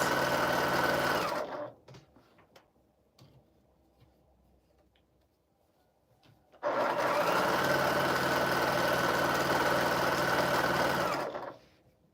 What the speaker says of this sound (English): That's why I'm sewing it